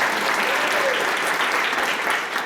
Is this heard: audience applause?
yes